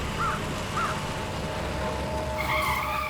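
A car's tires squeal in a skid as it brakes hard, the screech rising over steady road and engine noise near the end.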